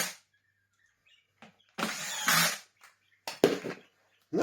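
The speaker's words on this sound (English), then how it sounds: "we can find at least 3 of these screws and drive them home" A power drill drives screws into the motor part of a Henry HVR160 vacuum cleaner, giving short close whirring bursts of a second or less with quiet gaps between them.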